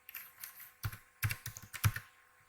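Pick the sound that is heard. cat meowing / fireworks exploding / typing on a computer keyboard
typing on a computer keyboard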